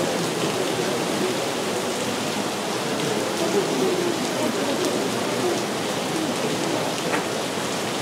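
Steady rain pours outside throughout, a dense, even hiss with scattered droplet ticks and no break in intensity.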